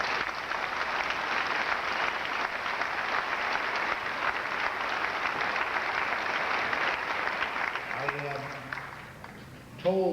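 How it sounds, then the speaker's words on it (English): Prolonged applause from a high school graduation audience honoring student speakers, broad and even clapping from a large crowd lasting several seconds before fading, with a voice starting to speak near the end. "Let's give them another round of applause."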